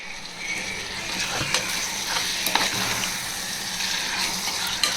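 Two medium-sized cut tomatoes frying and being stirred in a pan for a vegetable kurma, giving a steady close sizzle with scraping stir clicks and no talk.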